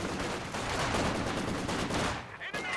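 Dense machine-gun fire from LMG Grenadiers in a Company of Heroes 2 battle, rapid overlapping bursts rattling continuously before cutting off near the end, under a caster's talk.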